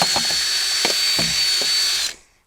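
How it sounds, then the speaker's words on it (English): Power drill fitted with a mortar mixer attachment churning peat moss, a steady high whine with rhythmic scraping thumps as the paddle turns, then the motor cuts off and spins down near the end. "I've been mixing it all up using my power drill with the mortar attachment on it"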